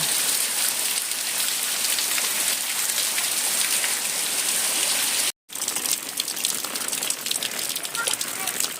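A steady roar of heavy rain drums on surfaces nearby during a cloudburst in Mithapur, broken by one brief silent gap midway before the downpour continues.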